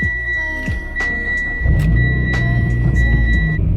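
A Mitsubishi Evo X runs on its first drive, a steady engine rumble that swells louder partway through, with a few sharp clicks and knocks over a constant mechanical whine.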